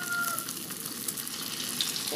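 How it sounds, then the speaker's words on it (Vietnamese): Tofu skin fries in very hot oil, a continuous close crackling sizzle that holds steady throughout, with a faint high beep briefly audible early on. "chiên nó vàng như thế này là được rồi nè các bạn"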